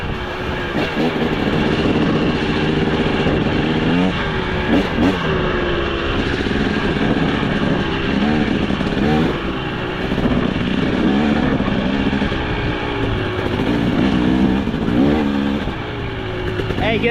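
A 2025 KTM 300 XC dirt bike engine revs repeatedly, rising and falling in pitch while ridden through deep mud during a storm, loud and close throughout.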